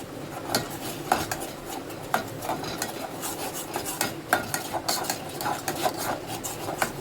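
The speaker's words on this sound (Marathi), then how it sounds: "पहिला मसाला फ्राय करून घेणार आहोत सगळं मस्त असं." Masala stirred in a pan with a spoon, giving repeated scraping, clinking strokes of metal against the pan over a faint sizzle, close and steady throughout.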